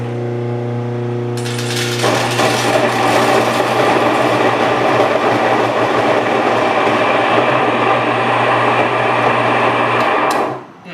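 Grain mill grinding corn kernels, starting with a low steady motor hum, then a loud continuous gritty grinding roar that holds for several seconds before cutting off abruptly at the end.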